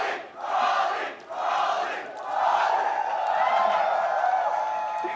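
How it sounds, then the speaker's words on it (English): A large arena crowd at a League of Legends esports quarterfinal roars and cheers continuously, loud and sustained with rising swells and no talk over it. "Let them cheer for a sec."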